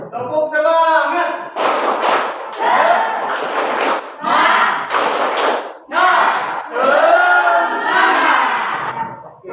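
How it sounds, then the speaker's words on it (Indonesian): A classroom of students chanting in unison in short rhythmic bursts, punctuated by sharp group claps and thumps, loud and close, repeated several times in a steady cadence. "Ya, tepuk semangat."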